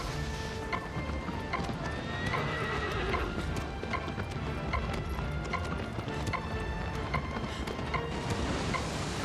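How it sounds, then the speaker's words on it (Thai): Horse hooves clip-clop steadily at a gallop with repeated neighs and whinnies in the video game Shadow of the Colossus, loud and continuous over game ambience. "ขี่ม้าหนีวะ"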